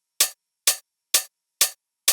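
An unprocessed open hi-hat drum sample with no EQ rings out five times at an even pace, each hit a bright, crisp metallic splash that decays quickly. It is loud and close, with no other sound.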